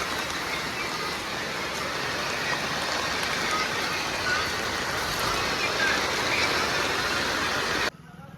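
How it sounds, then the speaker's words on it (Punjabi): Heavy rain falls steadily as a dense, continuous hiss that stays loud and even, then cuts off abruptly near the end. "ਫੁੱਲ ਮੀ ਪੈ ਗਿਆ"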